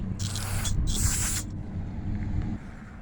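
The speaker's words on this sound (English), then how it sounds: "I'm going to hit the sides of this piston and around these rings with some cleaner." Two close bursts of aerosol cleaner hiss onto the sides of a small Predator 301cc engine piston and around its rings, the second longer, over a steady low hum.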